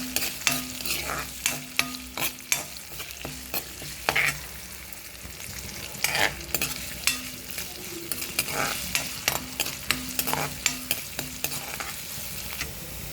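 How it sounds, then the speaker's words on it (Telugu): Carrot and potato pieces frying in a pan for poha, a bright crackling sizzle broken by frequent sharp spoon scrapes and clatters against the metal, close and lively, with no voices. "తర్వాత క్యారెట్ ముక్కలు, బంగాళదుంప ముక్కలు వేసుకొని వేపుకోవాలి"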